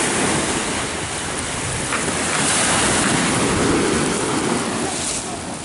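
Sea water along the Jamaican coast, a loud continuous roar of surf and waves mixed with heavy wind buffeting the microphone, steady throughout.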